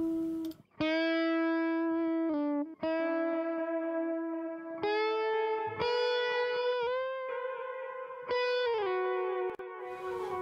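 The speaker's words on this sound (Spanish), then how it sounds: "estoy quitando y poniendo el delay para que apreciéis mejor lo que hace" A sustained distorted electric guitar solo plays bends and held notes as a delay effect is switched on and off, the repeats appearing and disappearing between phrases; loud and close, with no talking.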